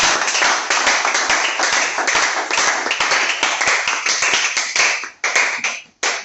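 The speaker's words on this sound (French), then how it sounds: "On acclame très très fort" A church congregation claps loudly and fast in unison, a dense, sustained roar of applause with two brief dips near the end.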